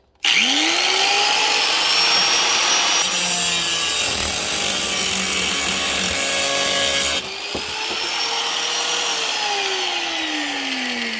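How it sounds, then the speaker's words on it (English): A loud power tool whines steadily as it cuts through material for several seconds, pitch shifting slightly under load, then winds down at the end. "let's turn on the tool, and I won't be able to talk while I'm doing this because it's loud"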